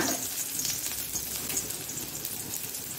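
Chopped ingredients fry in ghee for a palak corn gravy, giving a steady, soft crackling sizzle with fine popping throughout, no voices over it.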